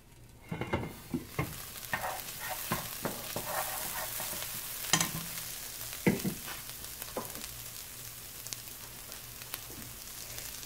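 Chiles and onion sizzling in a pan for a fish stew, a steady fry hiss broken by several spoon scrapes and clacks, close by with no talking.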